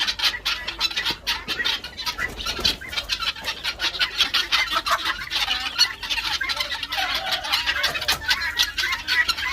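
Chickens cluck and squawk continuously up close, a busy, overlapping flock chatter with no talking.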